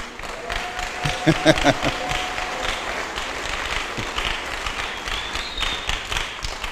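A church congregation applauds in a sustained wash of clapping that rises briefly in the middle, with faint voices and tones underneath.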